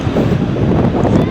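Strong wind at sea buffets the microphone on a small boat, giving a continuous low roar with gusty rumble through the short stretch. No one speaks.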